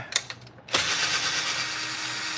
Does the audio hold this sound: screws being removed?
yes